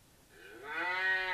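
A single cow moo from a WAV sound effect plays on a computer. It is a short, rising, nasal lowing call that swells in loudness and is heard alone.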